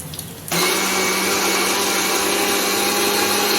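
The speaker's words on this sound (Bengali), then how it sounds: "মিক্সির জারে দই নিয়ে নেবো, দইটা ভালোভাবে পিষে নেব।" A kitchen mixer grinder switches on abruptly and whirs loudly and steadily, grinding yogurt in its jar, a constant high motor whine that runs alone after a brief quiet start.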